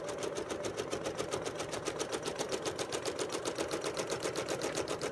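Sewing machine stitching steadily along a QP Curve ruler template during feather starburst quilting, a fast even rhythmic needle chatter running unbroken and close throughout, with no talking.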